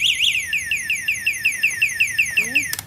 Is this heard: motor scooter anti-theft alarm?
yes